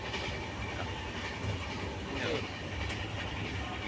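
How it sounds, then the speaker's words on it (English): Indian long-distance passenger train from Chennai to Varanasi rolling steadily on its rails, a continuous low rumble and rattle with faint rhythmic clatter, heard from inside the carriage, with voices murmuring. "40 hours on the train"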